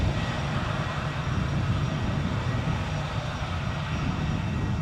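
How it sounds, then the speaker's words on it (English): Vueling airliner lines up for takeoff at Edinburgh Airport, its engines giving off a steady, even broadband rumble at moderate distance with no talk. "So the Vueling is now lining up"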